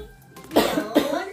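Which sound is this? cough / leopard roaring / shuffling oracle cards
cough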